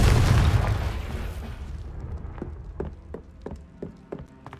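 A Confringo blast spell in the Hogwarts Legacy video game: a loud, broad explosive boom at the start fades over a second or two, followed by a series of sharp crackling pops and bursts spaced through the rest.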